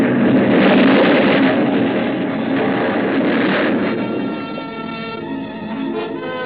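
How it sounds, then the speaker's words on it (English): A ship explosion sound effect rolls out as a loud, dense roaring rumble that starts at full force and slowly thins and fades over several seconds, with no voices. "The force of the explosion hurled me into the blood-warm waters."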